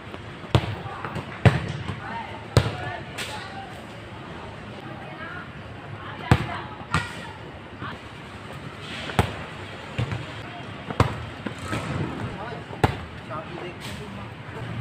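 Football shots kicked in Nivia football boots, heard as a run of sharp, loud thuds at irregular intervals, around a dozen impacts over a steady outdoor background with faint voices.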